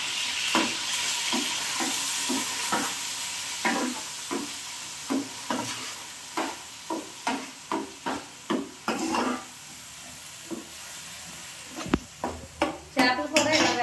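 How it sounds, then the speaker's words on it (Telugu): A fish curry is stirred in a pan after the lid comes off, with a soft sizzle underneath and a run of rhythmic scraping strokes from a spoon against the pan, close and moderately loud. "ఒకసారి కలుపుతున్నామండి మూత తీసుకొని."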